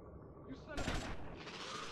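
A gunshot rings out in Grand Theft Auto Vice City, a single loud burst in the middle of continuous game sound with no voice over it.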